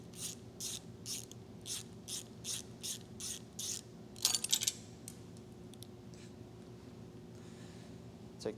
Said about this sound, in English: Loosen the bolt, take it all the way off, and it's 10 millimeter.